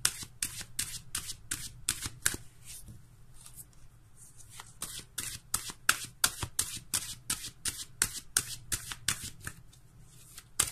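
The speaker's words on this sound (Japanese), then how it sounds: "こちらもカードをね、シャッフルしていきます。" Tarot cards shuffled by hand in quick, repeated riffling bursts with a steady rhythm, close and crisp, with no talking over them.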